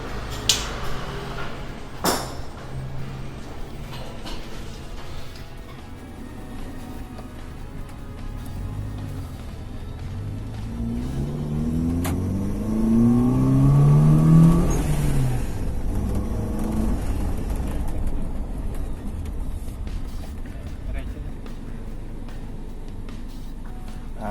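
A supercharged Toyota Fortuner 2.7L with a Rotrex supercharger is driven on a street, its engine hum steady and close, then rising in a clear rev and acceleration before settling back to a steady cruise.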